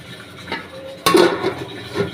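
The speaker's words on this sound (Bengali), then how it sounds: "ঢাকনি দিয়ে দিলাম" A lid set down on a cooking pot holding carrots and potatoes, landing with one sharp metallic clank and a short ringing rattle after a faint earlier tap, close by in a quiet kitchen.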